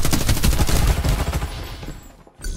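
Rapid automatic gunfire in a shooter video game, a loud, dense burst of shots that fades away over about two seconds, with no voices.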